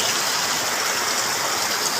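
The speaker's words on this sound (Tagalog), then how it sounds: "Oh, lakas ang ulan." Steady, dense wash of falling water, like heavy rain pouring down without a break, loud and continuous with no voices.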